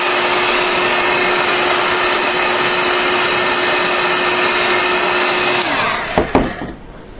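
Heat gun blowing on armour boot material, a loud steady whirring roar with a constant hum that holds for about six seconds and then cuts off, followed by a few clunks.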